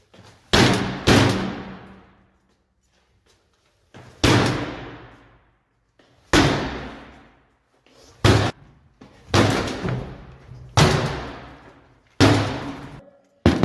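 Heavy slams and bangs on a door during an armed break-in at a house in Esenyurt, Istanbul, coming as loud single and double hits spaced a second or two apart, each ringing out briefly, with a faint voice between.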